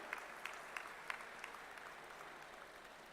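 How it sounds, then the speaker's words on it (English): Applause for graduates at a university convocation ceremony: a large hall of hands clapping in a steady wash, with a few sharper claps standing out, heard at a moderate distance and fairly soft. "Let's have a huge round of applause for all of you."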